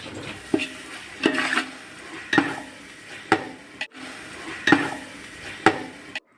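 A spoon stirs tomato and salt masala in a pan for chicken biryani, making rhythmic scraping strokes roughly once a second over a soft, constant sizzle.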